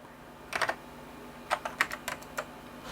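Someone types on the keyboard of a 2002-era AMD Athlon 2400+ gaming PC, with a quick cluster of three keystrokes followed by a looser run of about six crisp, close clicks over a low hum.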